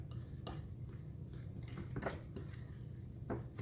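A spoon stirs a seasoning mixture for a roast lamb in a bowl, faint clicking taps against the dish repeating irregularly over a low background hum.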